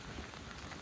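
Rain falling outside Montpellier cathedral, a soft steady hiss of drops on surfaces, faint and continuous for a brief moment.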